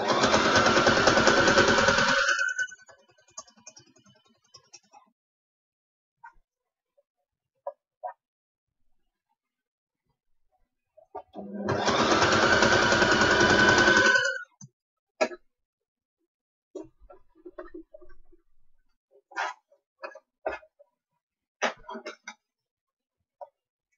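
A sewing machine stitches fabric in two loud, steady bursts of motor whir a few seconds each, separated by quiet gaps with scattered small clicks and handling noises.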